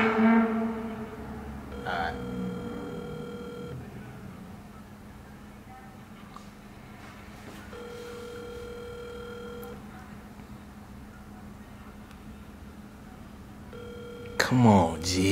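A phone call rings out while waiting for someone to answer, its electronic ringback tone sounding in three separate bursts over about fifteen seconds, with people talking in the background throughout.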